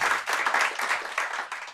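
A studio audience gives a brief round of applause, with fairly soft, continuous clapping heard alone and fading at the end.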